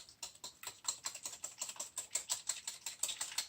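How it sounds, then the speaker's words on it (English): Bran muffin batter for low-fat blueberry muffins is whisked fast in a bowl, giving quick, even clicking taps about four a second that stay soft and close, with no voices. "So I'm just whisking that fast."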